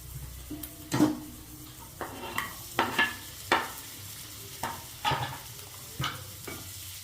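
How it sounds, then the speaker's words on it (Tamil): Tomatoes sautéing with onions and green chillies in a pan, heard as a soft, steady sizzle broken by about eight distinct scraping stirs of a spoon against the pan, close and fairly quiet, with no voices. "தக்காளி நல்லா வதங்கணும்"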